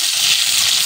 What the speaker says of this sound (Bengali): এখন কড়াই বসিয়ে দিয়েছি, সামান্য তেল আর জিরে দিয়ে দিলাম, অল্প পেঁয়াজ কুচি